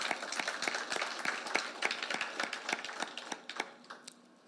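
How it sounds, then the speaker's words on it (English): Scattered clapping from a modest audience at a corporate anniversary event, individual hand claps clearly separate and uneven, fading and thinning toward the end. "I think that deserves an applause."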